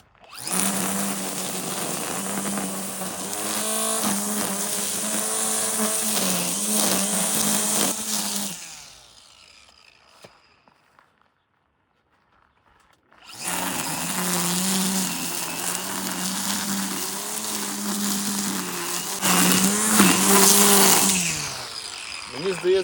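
A Husqvarna Aspire T28 P4A 18V battery grass trimmer runs with a steady high whine and buzz, cuts out for a few seconds of near silence, then starts again just as loud.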